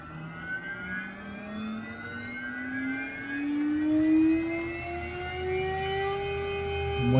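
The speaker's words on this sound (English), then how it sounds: "we can hit our run button and then we can adjust our frequency And we can see where our motor starts turning" A YoraHome VFD spindle motor on a CNC setup spins up toward 24,000 RPM, its whine rising steadily in pitch as it accelerates, with a layered high tonal hum growing slightly louder over several seconds.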